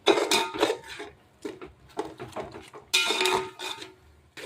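Ginger-garlic paste frying with onions in a pot while a spoon stirs it, giving intermittent scraping and clinking of metal on the pot in uneven bursts, close by.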